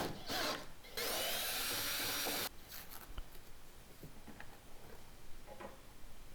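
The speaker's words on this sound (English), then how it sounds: "I'm drilling a pilot hole here first to get a good center point, and then using the large 13/16 inch bit." A power drill bores a pilot hole, then a 13/16 inch bit cuts through, with two loud close whirring bursts followed by quieter scattered ticks and taps of handling, no talk.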